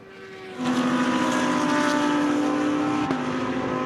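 A DTM race car on a flying qualifying lap at Assen, its engine winding up into a loud, sustained high-revving howl that swells in after a quieter start and holds steady, with a brief blip from a gear change near the end.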